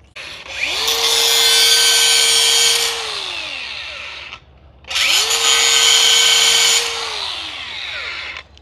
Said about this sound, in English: I've got that DeWalt grinder.